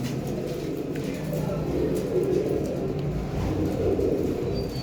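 Soft cooing from pigeons in Bhucho, Punjab, repeats in the background over a steady low outdoor hum, with faint voices somewhere nearby.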